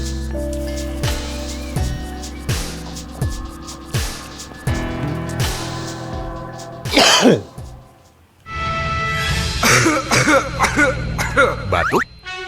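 A performer in an Indonesian kuda lumping and debus act coughs and clears his throat after swallowing glass. Several rough, harsh bursts stand out briefly over tonal music and bouncy sound effects.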